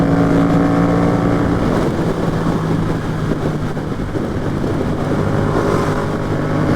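Yamaha FZ-07 motorcycle cruising, a steady loud engine hum with faint tonal harmonics beneath a continuous wash of wind and road noise, with no talking.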